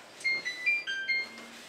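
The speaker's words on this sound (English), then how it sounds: "I can't believe it's already beeping at me." A kitchen timer beeps in a quick series of short, high, electronic tones, clear and close in a quiet kitchen.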